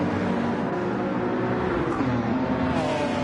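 A Toyota Supra race car at the Suzuka 1000km drives close by, its engine a loud, steady roar with pitch rising as it accelerates.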